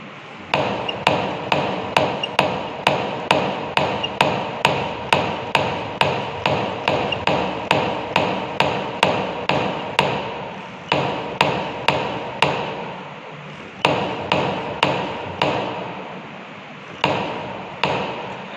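Liquid limit device for a soil test, its cup repeatedly lifted and dropped onto the base: a steady series of sharp, loud taps at regular rhythm, with a couple of brief pauses, close by and without speech.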